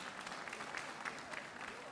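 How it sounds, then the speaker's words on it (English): Audience applause at a rally for Rochester schools after a young woman's inspiring speech, a steady wash of many hands clapping throughout, moderately loud with no clear pauses. "Can we give her another round of applause, please?"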